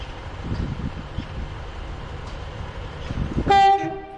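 A Pendolino train rumbles through Preston station, its wheels clattering over the rails, then a loud two-tone horn blares near the end.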